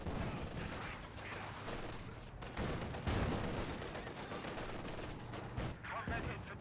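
An anti-tank gun fires amid a dense Company of Heroes 2 battle, with heavy booming shots and constant crackling gunfire layered close together, and a commentator talking over the noise.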